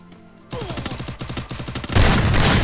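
Rapid automatic gunfire bursts out in a video game after a brief quiet start, a fast rattling string of shots followed by a louder, denser volley near the end, with no talk over it.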